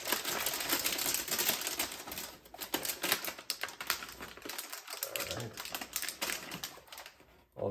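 Adhesive tape is pulled off the roll and pressed down while a large toy jet set is unboxed, giving loud, close, crackly ripping and sticking sounds in quick irregular bursts.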